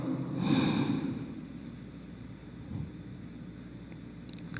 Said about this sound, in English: take 3 deep breaths with me. Inhale.